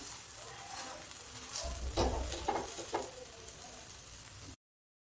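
Oil crackles and sizzles on a pan under a rava uttapam. The frying stays faint and steady, with a few sharper spits and scrapes midway before it cuts to silence near the end.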